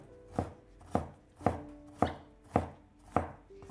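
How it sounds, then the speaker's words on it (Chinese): A knife on a cutting board dices a piece of ginger into small cubes, with six evenly spaced, crisp chopping strikes, close and clear with no talking. "一块生姜给它切成小丁"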